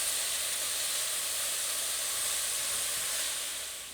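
Shrimp sizzle in a hot pan for shrimp tacos, a loud, steady, bright hiss of frying that carries on evenly without pause and fades slightly at the end.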